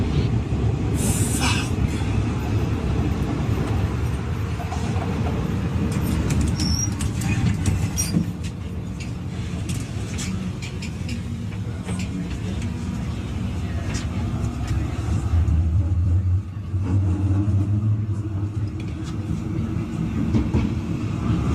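A tram rolls past with a long, steady rumble and rattle of wheels on rails, loud and close for most of the stretch, with brief higher squeals and scraping over the low drone.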